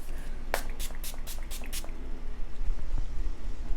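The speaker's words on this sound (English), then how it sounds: "Setting spray we're using is the Beauty Creations setting spray" Six quick bursts of Beauty Creations makeup setting spray hiss out in a rapid sequence, then soft handling rustles follow against a quiet room.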